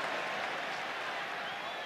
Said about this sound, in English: Crowd trying to shout United home here.